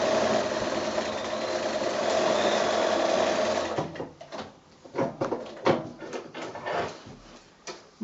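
A domestic sewing machine stitches quilt binding onto a fabric project bag, running steadily for about four seconds, then breaking into short start-stop bursts of stitching separated by quiet pauses.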